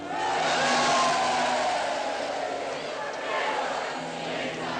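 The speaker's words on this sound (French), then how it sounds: "Que signifie cette acclamation?" Crowd acclamation from a Roman populace in the 1970 film Julius Caesar: a broad, sustained roar of many voices cheering in the distance, swelling and easing slightly over several seconds, with no clear individual speech.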